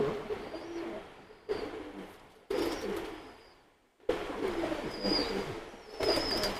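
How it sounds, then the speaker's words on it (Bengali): A female teddy pigeon coos softly at close range, several low coos spread across short, abruptly cut segments with quiet gaps between them. "এটা মাদি কবুতর অনেক সুন্দর একটা মাদি কবুতর"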